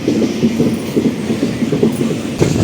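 The Tirupati Express rolling along the rails just after departing, a steady close rumble with rhythmic wheel clatter running throughout, no voices.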